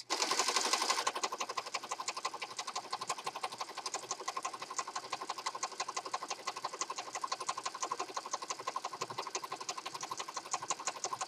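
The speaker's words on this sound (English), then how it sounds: "you could sew it right down the middle if you like" A sewing machine stitches through journal pages with a fast, even mechanical chatter that runs steadily for several seconds, close and unaccompanied by talk.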